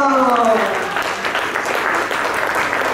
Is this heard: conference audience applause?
yes